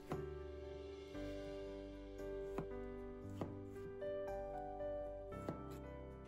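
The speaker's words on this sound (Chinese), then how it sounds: "接下来准备一个番茄，对半切开，然后切成片。" Faint, crisp knife taps as a tomato is halved and then sliced on a board, several separate chops spaced irregularly beneath soft background music.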